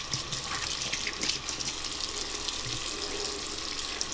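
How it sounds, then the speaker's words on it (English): Water runs steadily from a tap as a dirty makeup brush is rinsed under it, a constant close splashing stream with no talking. "I'm gonna go ahead and rinse that off because it's kind of dirty"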